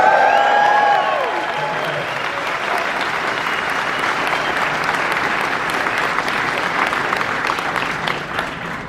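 Sustained audience applause with some cheering fills a music venue as a musician is welcomed at a Q&A show in Kingston, steady and dense throughout, opening with a few whistles.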